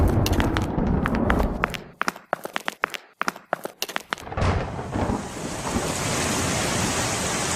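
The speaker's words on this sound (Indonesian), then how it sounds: "Nah, hujan." Rain sets in after a burst of sharp irregular clatters and thuds, then settles into a dense, steady hiss of downpour that stays loud to the end.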